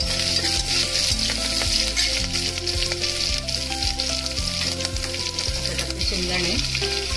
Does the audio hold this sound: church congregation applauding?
no